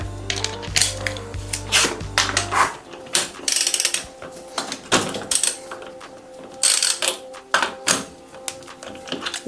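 A 14mm socket wrench undoing the crank screw on a square-taper bicycle crank gives rapid ratcheting clicks in irregular bursts, close and fairly loud, with metallic taps and rattles between strokes.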